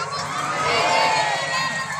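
Crowd at a religious lecture for the Prophet's Maulid, clapping and cheering together in a sustained, swelling wash of voices and hands that peaks midway, with no clear speech.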